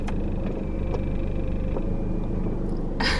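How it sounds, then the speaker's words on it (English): A parked car's engine runs loudly and steadily, a close low rumble filling the whole stretch, with a brief brighter noise burst near the end. "feel like my car is so loud"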